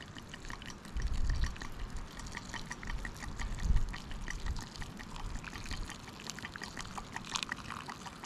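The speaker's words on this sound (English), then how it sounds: "We'll just add some hot water." Hot water poured from a kettle or pot onto instant noodles outdoors on a hike, a steady soft trickle lasting several seconds with a few louder splashes, heard alone without talk.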